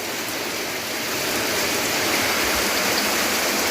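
Rain pours outdoors beside a pen of narrow-mouthed frogs, a dense steady hiss that swells slightly louder partway through, with no talking.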